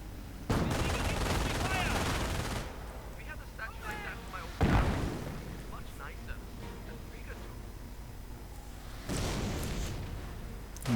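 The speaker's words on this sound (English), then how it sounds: "A bit of mortar firing going on here on the False Grenadiers." Mortar fire in a WWII strategy video game, with three heavy booming bursts spaced several seconds apart over continuous battle noise. A commentator talks throughout.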